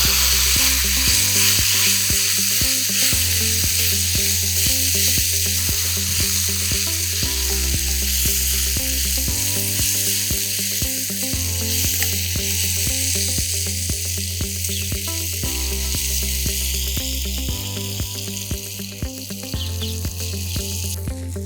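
Boiled raw banana pieces sizzle and fry steadily in a pan for a Kannada-style balekayi palya, a loud continuous hiss with stirring scrapes and no talking.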